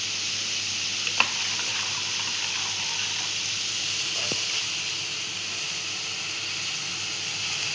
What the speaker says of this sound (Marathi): इथे आपल्याला व्हेजिटेबल थोडा गरम करून घ्यायचे, म्हणजे फ्राय करून घ्यायचे थोडेसे.